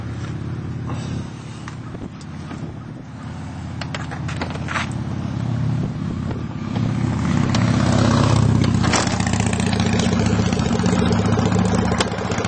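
A 2001 EZ GO Workhorse gas utility vehicle engine runs steadily in neutral, a close rumbling idle that swells slightly louder partway through, with no talking.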